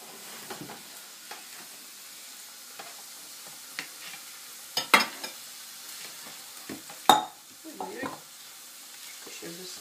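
A Chinese stir-fry is stirred in a hot pan: a continuous low sizzle carries scattered scrapes and a few sharper clanks of the utensil on the pan, heard up close without speech.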